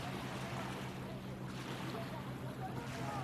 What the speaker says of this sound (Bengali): আবার জোয়ার এসছে।